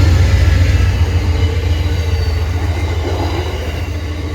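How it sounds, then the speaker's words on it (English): Amtrak Train 42 on former PRR trackage, led by Phase 2 Heritage unit number 130, rolls east around a 30 mph curve near Lancaster, a loud steady rumble of wheels and rail with no voices. "Train 42 is seen rolling east, with Phase 2 Heritage number 130 sweeping around the 30-mile-per-hour curve"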